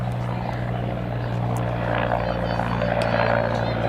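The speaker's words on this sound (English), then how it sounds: "We have a helicopter flying overhead" A helicopter flies overhead at a softball game, its steady rotor and engine drone filling the clip at moderate loudness, with faint crowd or field sounds underneath.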